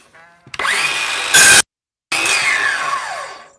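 Milwaukee M12 cordless plastic pipe cutter slicing through 1.5-inch plastic pipe, a close, loud motor whine in two bursts separated by a brief silence, with a sharp louder surge just before the gap.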